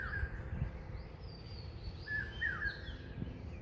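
Bird calling from a high perch, either a hawk-cuckoo or a hill myna, giving a few short, sharp whistled notes over faint outdoor background, somewhat distant and fairly quiet.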